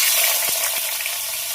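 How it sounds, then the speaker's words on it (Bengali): Bitter gourd slices frying in hot oil in a wok give a steady, loud sizzling hiss, continuous and close, with a couple of faint knocks in the middle. "আর উচ্ছেগুলো ভাজার জন্য কড়াই বসিয়ে দিয়েছি"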